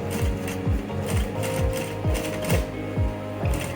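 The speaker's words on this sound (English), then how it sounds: "If you have an interlocking machine, it makes it easier. You just interlock it if you prefer." An interlock sewing machine stitches trouser fabric, running loudly and continuously with a regular, fast mechanical chugging and a steady motor hum.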